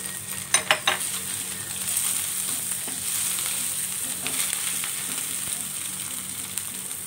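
Scallions dropped into a hot pan for seafood noodle seblak, a few sharp clatters of utensils at first, then a steady close sizzle of frying with light stirring scrapes.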